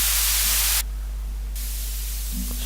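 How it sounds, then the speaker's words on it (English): Synthesized white noise from the LMMS music software, a loud, flat broadband hiss that abruptly drops away midway and then returns more softly, with a low steady hum underneath and no talking. "So white noise, probably listen to that starting around here somewhere."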